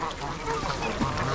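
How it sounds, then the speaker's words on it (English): Ducks and geese quack and honk on a wintry stretch of the Huron River among other waterfowl. The calls come in a busy, overlapping chorus with background noise, and voices talk faintly underneath. "And the ducks, look at the ducks."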